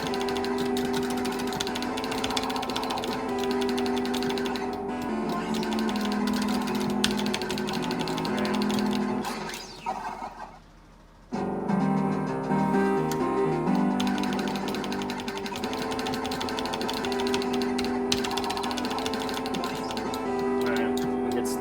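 Retro arcade shooter GunSmoke playing on an iCade 60-in-1 cabinet, with dense continuous electronic music and rapid game effects that drop out briefly midway before resuming at steady loudness.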